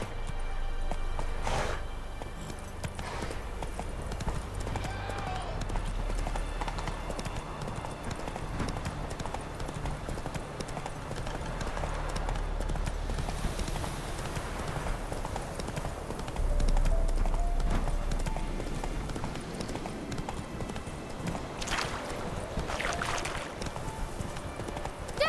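Hooves of a horse clip-clop steadily at a gallop in The Witcher 3 video game, a continuous rhythmic pounding with an occasional whinny, under game music and voices.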